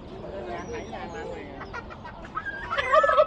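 A chicken clucks and calls close by near the end, mixed with people talking in the background.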